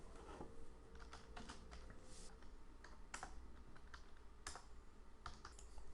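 Computer keyboard keys clatter in quick irregular bursts as Java code is typed, faint and close, with no talking.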